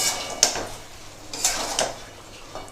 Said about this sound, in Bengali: এবার ভালো করে নেড়েচেড়ে দেব।